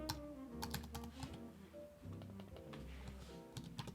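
Someone types on a computer keyboard while building a website, with quick, close clusters of key taps in an uneven rhythm over a faint background hum, no voices.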